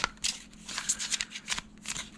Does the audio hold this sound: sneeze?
no